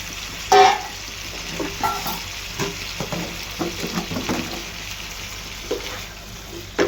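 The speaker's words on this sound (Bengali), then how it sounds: "মশলার সাথে 3-4 মিনিট কষাই নিই মুখিগুলো" Taro pieces (mukhi) are stir-fried with spices in a pan. A constant loud sizzle runs beneath repeated scraping and knocking of a spatula against the pan.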